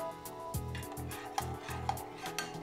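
Butter being whisked with saffron, orange zest and mint in a bowl for a fish marinade: steady rhythmic whisk strokes scraping and clinking, close and clear, with a few sharper taps.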